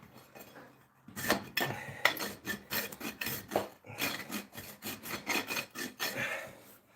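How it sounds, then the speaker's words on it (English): A farrier's rasp files rhythmically across the hoof of a Clydesdale Quarter Horse cross, making close, loud scraping strokes in steady repeated bursts with brief pauses between them. "Take that rasp, clean up around that edge like that."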